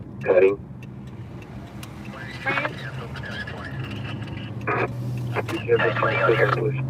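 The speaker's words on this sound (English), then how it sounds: "that was actually a fire scanner, or just a scanner" Fire dispatch scanner radio traffic plays, with clipped radio voices and bursts of tones over steady low hum from a car interior, while someone talks nearby.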